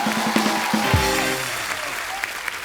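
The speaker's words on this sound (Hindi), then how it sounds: "जोरदार तालियां हो जाएगा।" A studio audience at a comedy talk show breaks into loud, sustained clapping and cheering, with a brief voice and rumble underneath at the start.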